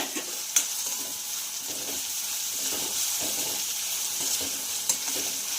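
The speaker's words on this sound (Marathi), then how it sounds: "शिमला मिर्च यासोबत दोन बारीक चिरलेल्या हिरव्या मिरच्या आणि हे छान आपल्याला फ्राय करून घ्यायचं आहे" Capsicum and green chillies frying in a pan for paneer bhurji, a continuous moderate sizzle with repeated scraping stirs and occasional sharp clinks of the spoon.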